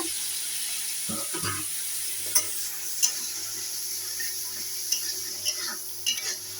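Spice paste and hilsa fish are stirred in hot oil for mustard hilsa, a soft sizzle broken by several scattered clinks and scrapes of a utensil against the pan.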